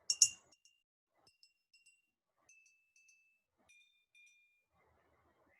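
Water glasses filled to different levels are tapped one at a time, giving a sequence of short, clear, bright pitched clinks. The notes are spaced apart, ring briefly and fade, and a louder clatter opens the sequence.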